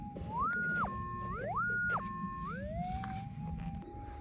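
A metal detector's electronic tone rising and falling in pitch over a target while detecting for gold at old gold mines, a clear warbling signal repeating several times over low background rumble.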